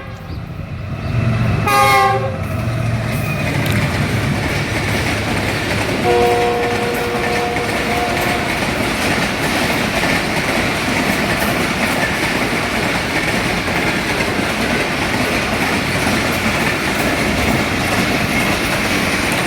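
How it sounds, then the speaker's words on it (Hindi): A passenger train led by a G40 diesel locomotive sounds its horn, then roars past close by in a loud, continuous rumble of wheels and clattering cars that lasts to the end. "और फिर एक और ट्रेन जिसको G40 ही लीड कर रहा है"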